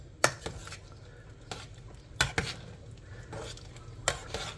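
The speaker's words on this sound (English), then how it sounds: "So I'll give it a stir." A utensil stirs creamed Tom Yum soup in a pot at close range, with a few sharp clinks against the metal over a soft, steady scraping and low bubbling background.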